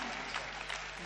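Audience applause at a Hindi comedy show, a short dense burst of clapping from the crowd, steady and fairly soft throughout.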